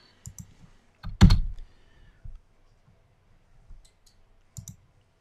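A computer mouse button clicked on a desk amid scattered light clicks and taps, one louder sharp click cluster standing out, close and fairly quiet, with no talk.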